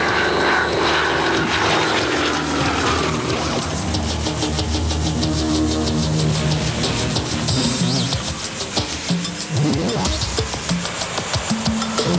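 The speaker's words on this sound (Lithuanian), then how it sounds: "Su-31 dabar yra bene pats populiariausias pasaulio akrobatinis lėktuvas." A Sukhoi Su-31 aerobatic airplane engine roars loudly and continuously, with a droning propeller tone and rising and falling pitch as the plane manoeuvres nearby.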